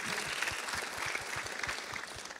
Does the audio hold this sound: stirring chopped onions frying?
no